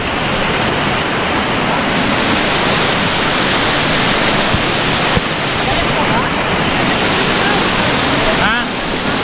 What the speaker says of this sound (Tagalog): ito na po ang kagandahan ng Cayulo Falls.